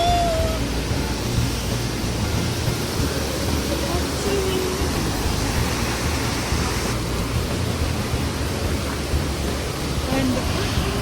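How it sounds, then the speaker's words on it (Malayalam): Athirappilly waterfall in rain, a steady broadband roar of falling water heard up close, continuous and even, with brief faint voices and occasional soft tones over it. "നോക്ക് ഗൈസ്, വെള്ളച്ചാട്ടം."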